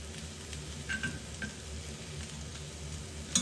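Spinach cooking down in a small pan gives a steady, faint sizzle and frying crackle, with a couple of brief soft clinks partway through and no voices.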